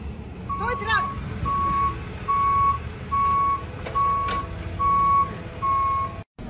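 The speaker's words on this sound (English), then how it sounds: "Toy truck!" A toy truck's reversing beeper sounds a steady string of about seven evenly spaced beeps, each lasting just under a second, over a low background rumble.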